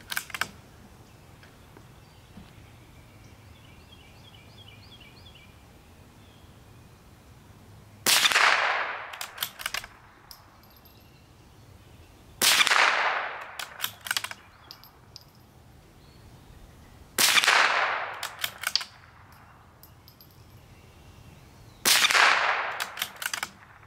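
Four sharp rimfire rifle shots ring out from a CZ455 or CZ457 firing CCI Standard ammunition. The reports are spaced about four to five seconds apart, each a sharp crack with a short decaying echo, and quiet background fills the gaps.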